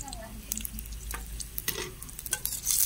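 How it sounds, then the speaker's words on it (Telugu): Onions, green chillies and bay leaves stirred in hot oil in a pan over a wood-fired stove, giving a steady low sizzle with scraping stirring strokes throughout. "అవి కొంచెం ఫ్రై అయ్యేంత వరకు కలపాలి, గోల్డెన్ బ్రౌనిష్ వచ్చే వరకు"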